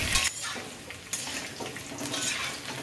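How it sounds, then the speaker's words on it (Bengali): Boiled raw jackfruit pieces frying in oil, a busy crackling sizzle with occasional clinks and stirring of a utensil against the pan, close and fairly steady. "এরপর আমি সেদ্ধ করে রাখা এঁচোড়গুলো প্রথমে ভেজে নেব। অবশ্যই এঁচোড়গুলো লাল লাল করে ভেজে নিতে হবে।"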